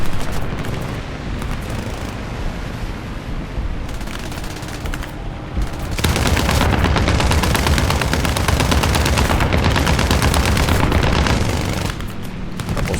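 Aircraft guns in War Thunder air arcade combat, a dense, sustained roar of rapid cannon and machine-gun fire layered over engine noise, growing louder and heavier midway through, with no talking.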